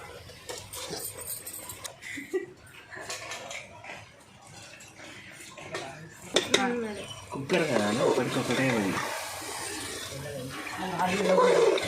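Water is poured into a pressure cooker over rice and cooked mutton for pulao. Faint pot clatter comes first, then a steady, rising stream of pouring and sloshing fills the last several seconds, with a voice speaking early on.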